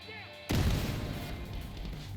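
A frag grenade bursts in The Division 2 during a museum firefight, a sudden loud boom that cuts in after a brief quiet moment and leaves a rumbling, crackling tail that fades slowly.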